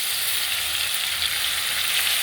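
Pasta frying lightly in butter in a pan for white sauce pasta: a steady, close, dense sizzle that holds evenly throughout with no voices.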